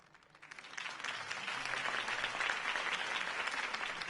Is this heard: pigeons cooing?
no